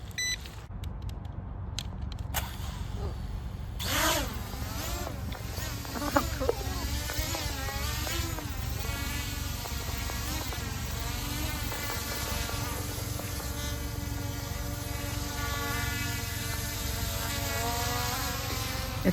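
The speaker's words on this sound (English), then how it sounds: "It's like a robotic bug, especially with the buzz." A small PLEGBLE PL-510 foldable beginner drone hovers close by, its propellers giving a steady, high-pitched insect-like buzz that wavers in pitch as it moves, continuous and fairly loud throughout with a few beeps near the start.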